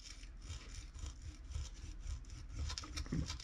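An X-Acto knife scrapes and cuts into a small wooden dowel in a quick series of short, close, faint rasping strokes.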